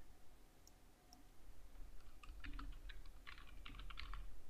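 A menu item typed on a computer keyboard: a quiet burst of quick, uneven key clicks, close and faint, starting after a couple of isolated taps.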